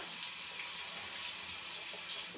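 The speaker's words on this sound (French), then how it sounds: "je vais venir rincer mon riz longuement" Running water from a tap pours steadily over rice being rinsed in a bowl for a long time, a continuous soft hiss and splash with no breaks and no voices.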